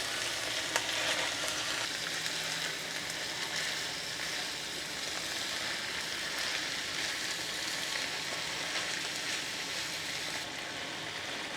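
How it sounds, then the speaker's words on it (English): Shredded cabbage stir-frying in a pan, a dense continuous sizzle with soft scraping of stirring, steady and close without speech. "stir fry it up for a few minutes, and we'll call that done"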